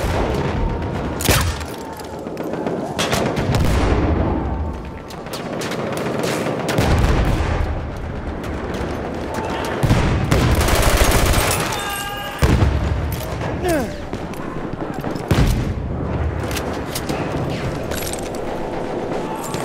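Machine gun bursts and scattered gunfire in a WWI-style video game battle at Fort de Vaux, loud and continuous with booming blasts, under shouted voices throughout.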